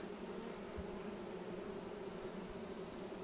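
Honey bees buzzing around an opened hive during a late-September inspection, a steady, dense hum that continues without a break, with no voices.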